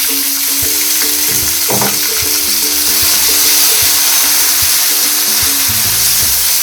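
Onions, garlic and tomatoes sizzle loudly and continuously in a pan, a dense frying hiss broken by occasional scrapes and knocks of stirring.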